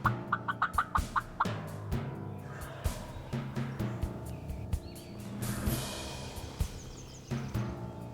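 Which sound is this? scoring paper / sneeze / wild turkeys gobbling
wild turkeys gobbling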